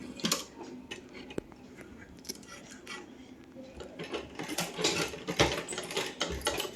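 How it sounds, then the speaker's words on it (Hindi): Domestic sewing machine stitching the front and back panels of an A-line suit together, with quick bursts of mechanical clatter and ticking that get busier and louder toward the end. "अब हम इसको सिल देते हैं।"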